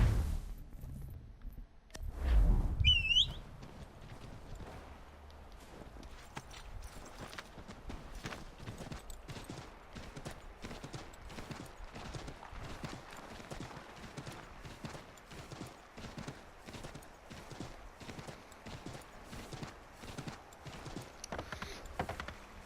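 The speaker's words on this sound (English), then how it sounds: "And I'll call a horse in so we can expedite this a bit more." Horse hooves clip-clop steadily in the video game Assassin's Creed 3 Remastered, a long run of even, moderately loud footfalls on a road with a brief louder burst near the start.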